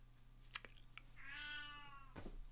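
A pet cat gives a single drawn-out meow in the middle, soft and fairly close, framed by a few faint clicks and taps against a quiet low hum.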